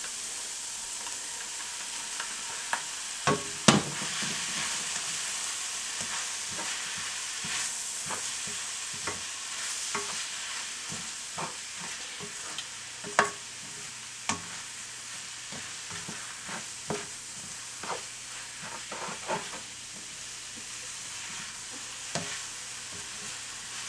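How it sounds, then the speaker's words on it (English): Shirataki noodles stir-frying with beef in a pan for low-carb lo mein, a steady sizzle and scattered clicks and scrapes of a utensil stirring, close and alone with no voices. "Okay, now it's time to add our noodles."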